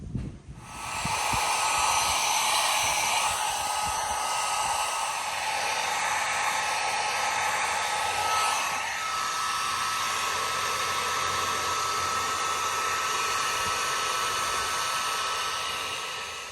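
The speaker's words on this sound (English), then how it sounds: "I'm going to now heat this up with the heat gun" A heat gun shrinking heat-shrink tubing on trailer wiring, a loud continuous airy blowing hiss that starts abruptly and holds steady for the whole stretch, close up with no voices.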